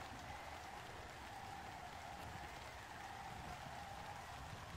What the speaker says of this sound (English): So rainy.